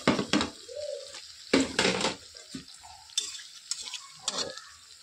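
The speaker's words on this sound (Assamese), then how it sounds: "এনেকৈ অলপ অলপ কৰি জুইত উতলি আছে" Gaja sweets frying in hot oil in a home kitchen, with soft bubbling under intermittent scraping and clinking of a utensil against the pan, close and fairly quiet, with no voices.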